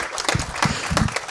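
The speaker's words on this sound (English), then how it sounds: "Let's give him a big round of applause." Live startup-event audience applauding, a short burst of dense clapping at moderate loudness with no talk over it.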